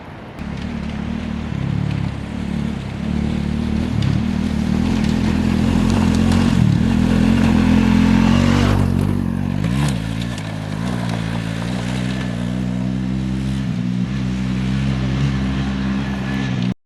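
A motorcycle rides along a road through orange farms in Assam, its engine a loud, continuous close drone that swells and eases with throttle, mixed with wind rush and road rumble.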